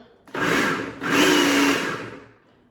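An electric kitchen mixer stirring quiche ingredients, running in two close whirring bursts separated by a brief dip, loud and near before winding down.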